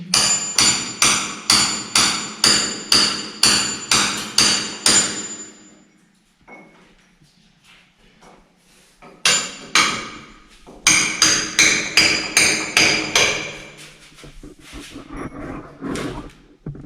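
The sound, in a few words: hammering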